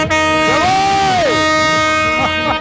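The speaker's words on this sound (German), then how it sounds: "Es wird gehupt, was das Zeug hält." Car horns honk loudly at a campsite during the 24-hour Nürburgring race, a long sustained blast with shorter toots around it over a crowd-filled background.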